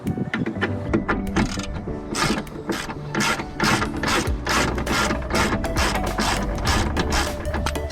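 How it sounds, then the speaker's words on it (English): A hand ratchet wrench turns a bolt on the rear suspension of a Volkswagen Golf during a coil spring replacement, with rapid, loud, close clicking in repeated bursts and no talking. "You can continue using your ratchet or your spanner if you don't have a gun."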